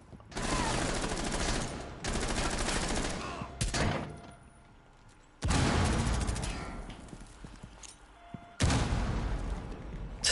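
Grenade blasts in the video game Rainbow Six Siege erupt as loud, roaring bursts, several in succession, each rumbling for a second or two before dropping back to quieter gaps.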